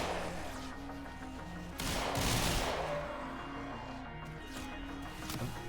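Gunfire in the Warframe video game, dense rumbling bursts and crackling shots layered over a steady game soundtrack, with a louder surge of blasts near the middle.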